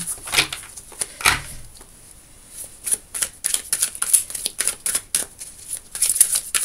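Tarot cards shuffled and drawn by hand: crisp papery flicks and slaps, a couple of louder riffles early on, then a quick run of soft card snaps and slides, close and clear with no voice.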